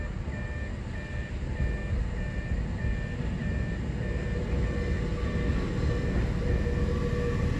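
A Nagano Electric Railway 8500 series train passes Suzaka station, a loud continuous rumble of wheels on track with a level-crossing warning bell chiming steadily over it.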